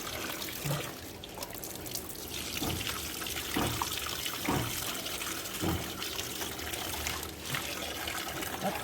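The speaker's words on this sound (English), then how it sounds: "As long as the acrylic is still wet, I can wash." Water trickles and splashes faintly as wet acrylic paint is rinsed off a gelli plate, a low continuous running sound broken by soft intermittent rubbing and dribbling.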